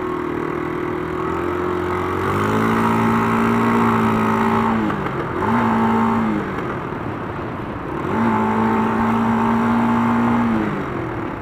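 An old Yamaha Fazer 250 motorcycle engine drones steadily while being ridden, its note rising and falling with throttle changes, dipping briefly around the middle before climbing again, loud and close throughout with no talk.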